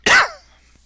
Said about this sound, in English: I got this nasty cough